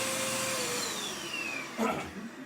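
A household vacuum cleaner runs in a home, giving a steady, loud, continuous whooshing roar throughout, with a slight surge near the end.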